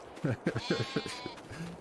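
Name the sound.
sheep bleating in the video game Farming Simulator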